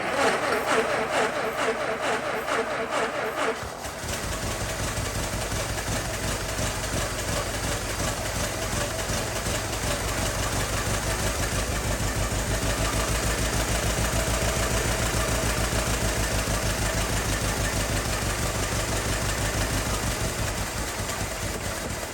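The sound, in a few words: 1914 Ford Model T Speedster engine idling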